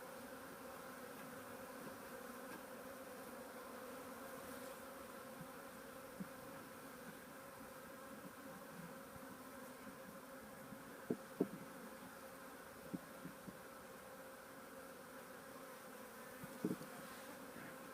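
A package of honeybees is being installed in a hive in cold weather, and the bees hum in a soft, steady drone throughout. A few faint clicks and knocks come through, and no one speaks.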